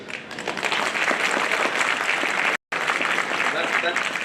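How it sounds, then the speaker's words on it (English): Graduation ceremony attendees at HKBK College of Engineering in Bangalore applaud in a sustained, fairly loud wash of clapping, broken by a brief dropout midway, with some voices mixed in. "can we have a round of applause for all your teachers, families, and friends?"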